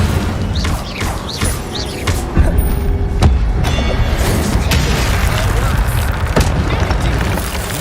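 A fire spell cast in the game Hogwarts Legacy bursts out as booming blasts and crashes, loud and close, inside a dense, busy mix of combat noise with speech running through it.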